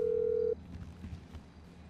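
A phone call ringing in the video game Grand Theft Auto 5: one steady electronic tone holds for about half a second, then cuts off abruptly into a faint low background hum.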